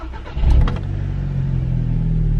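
A tuned 350 bhp VW Golf GTI engine starts up, a sharp crank and rev flare settling quickly into a smooth, steady idle, close and loud.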